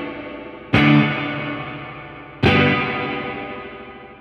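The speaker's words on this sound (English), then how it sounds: "So that's spring reverb" Two strummed electric guitar chords ring out through a spring reverb pedal, each struck sharply and left to decay in a long, washy, slightly modulated tail, played alone without talk.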